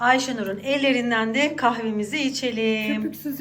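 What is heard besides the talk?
No distinct noise like a dog, phone or traffic.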